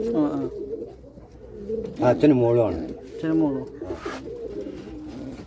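Soft pigeon cooing mixes with someone talking nearby, the low throaty calls of a brooding pigeon rising and falling under the speech.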